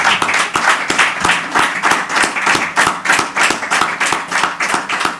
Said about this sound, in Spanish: Yo les agradezco estos aplausos